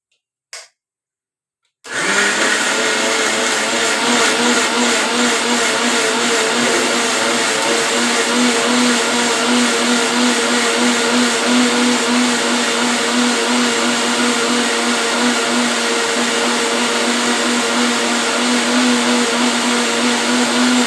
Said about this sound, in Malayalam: നമുക്ക് ഈ തേങ്ങ അരച്ചെടുക്കാം